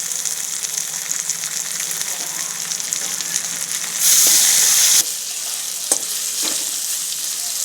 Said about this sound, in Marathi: कांदा आपला भाजत आलेला आहे आपण टॅमॅटो टाकूया पाठी